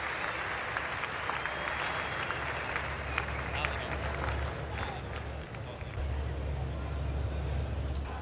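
Crowd at a 1991-92 Australia versus India cricket Test match applauding a shot, sustained distant clapping and cheering spread across the ground under continuous commentary.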